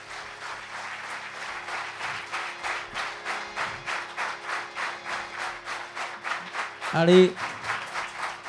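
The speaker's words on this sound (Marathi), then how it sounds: "हा कार्यक्रम करणाऱ्या सर्वांसाठी जोरदार टाळ्या होऊ देत" A concert audience applauds in a big hall, with loud, steady clapping throughout. An announcer speaks near the end.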